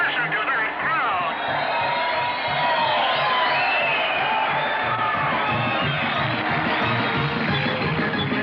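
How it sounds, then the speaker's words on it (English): A crowd cheers and shouts as the winner crosses the finish line of a race: a dense, sustained roar of many voices with whoops and yells, loud and continuous throughout. "And will you listen to that crowd?"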